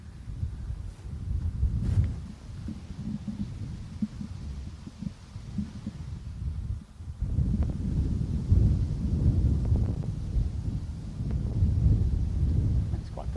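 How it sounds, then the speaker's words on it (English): Wind buffets a hilly golf course near the 18th hole, a low rumbling roar that gusts and drops, easing for a moment midway before building again. "Breezy down here actually."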